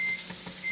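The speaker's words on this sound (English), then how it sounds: "10 seconds, you hear the alarm, dee, dee, dee" An electric West Bend wok, 6 quart, sounds its temperature alarm with a thin steady electronic tone that cuts off and returns, faint under a low background hum.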